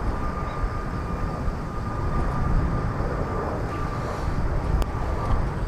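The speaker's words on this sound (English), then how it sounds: "Coming in from Osaka, an Airbus" Airbus A320-200 arriving from Osaka at Incheon airport, a steady broadband jet roar heard from a distance, fairly loud and unbroken, with a faint thin whine riding over it.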